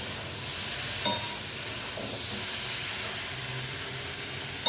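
Prawns and vegetables sizzle in a pan on the stove, giving a steady, close frying hiss. A few faint clicks and stirring knocks break the sizzle, and no one speaks.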